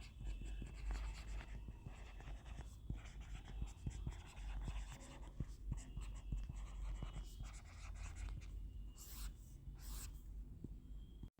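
Pen or pencil writing notes by hand on paper, a steady scratchy rubbing that runs close and fairly quiet throughout, with faint low background hum and no voice.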